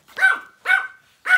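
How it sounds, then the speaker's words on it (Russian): Small dog barking three times in short, sharp yips spaced about half a second apart, close and fairly loud inside a Trixie Malinda pet carrier bag, with no talk over it. "Тихонечко, не гавкай."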